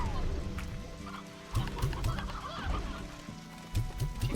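Chickens cluck in the video game Slime Rancher, soft short clucks recurring in small groups over a busy background of game sounds and music, fairly quiet throughout.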